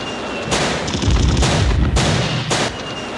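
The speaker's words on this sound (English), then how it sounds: "These explosions, wave after wave of attacks coming in here." Repeated heavy blasts and rumbling booms from a 1991 Gulf War air attack, loud and dense, in waves with bright bursts of crackle between them; no voices.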